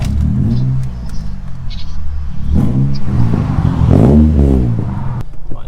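A straight-piped Honda Civic EP3 Type R revs at night, loud and close, its rasping exhaust climbing in sharp surges with crackles between the pulls.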